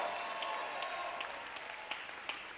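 A church congregation claps continuously, with a dense, even wash of many hands and a few sharper claps standing out, heard from a short distance.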